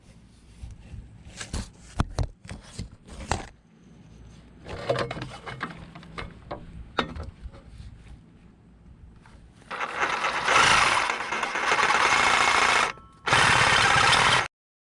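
A reciprocating saw cuts through a rusted exhaust bolt on a Nissan Rogue in a cramped underbody space, preceded by clanks and scraping of tools, then a loud, sustained buzzing roar with a brief pause before another burst.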